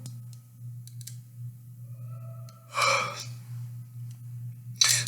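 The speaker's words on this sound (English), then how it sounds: "Sorry about that yawn." A man yawns during a Dungeons & Dragons 5e talk, letting out a breathy drawn-out exhale over a steady low hum, with soft clicks before it and another sharp breath at the end.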